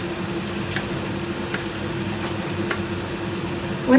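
Onion with Kashmiri chili powder, coriander and pepper powder sautéing in a pan for chapathi curry, a steady close sizzle and fry with faint ticks of stirring, no voice.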